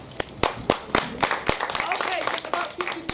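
A handful of sparse claps from a few people, spaced irregularly, with voices talking in the background.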